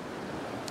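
Sea swell of around two feet washes against the shore in a steady, close surf hiss, brief and unbroken, with no voices.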